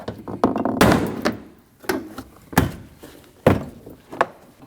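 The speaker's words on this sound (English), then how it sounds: "take a trim tool like this, put it behind, and pull that door panel straight out" Door panel clips on a Nissan NV2500 popping loose under a plastic trim tool: a series of sharp, close snaps and thunks, spaced about a second apart, with rattling and handling noise between.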